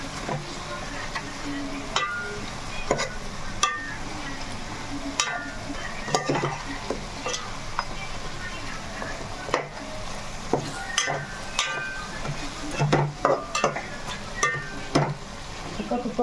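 Chicken pieces sizzling in a pan for chicken biryani, a steady close frying hiss with repeated clattering stirs and metal scrapes against the pot, no voices heard.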